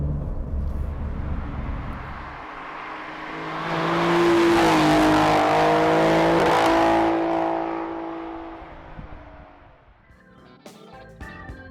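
Alfa Romeo Giulia Quadrifoglio driving past or accelerating, its engine rising to a loud rasping roar with climbing pitch, holding, then fading into lower rumble and a few faint clicks.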